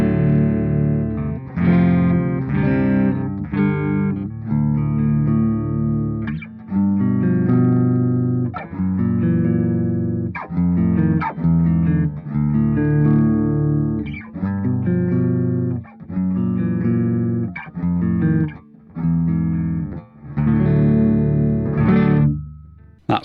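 Clean electric guitar through a DV Mark DV 50 M solid-state amp head with no reverb plays a series of plucked notes and chords, dry and close, with short gaps between phrases and no voices.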